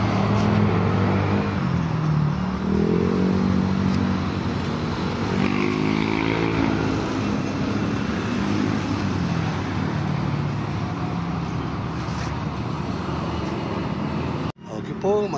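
Highway traffic passing beside a mangrove in Barangay Ibo, Toledo City, Cebu: a steady roar of passing vehicles under a voice that keeps talking, cut briefly near the end.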